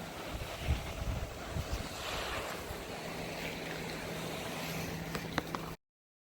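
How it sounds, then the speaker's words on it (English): A boat moves along the Chesapeake Bay shoreline at Kiptopeke State Park. Gusting wind and lapping water fill the scene, and a low, steady motor hum comes in partway through, distant and partly buried under microphone wind noise. "Someone on their boat enjoying their boat ride."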